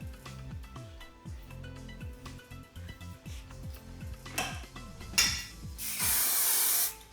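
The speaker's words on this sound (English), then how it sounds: "Just a light spray," Light hairspray misting onto styled hair during a half-up bridesmaid style, first a short hiss and then a louder, sustained spray near the end, heard over soft background music with ticking beats.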